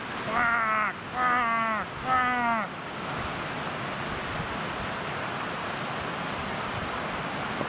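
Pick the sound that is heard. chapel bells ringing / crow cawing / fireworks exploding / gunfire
crow cawing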